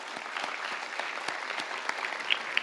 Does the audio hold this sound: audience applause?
yes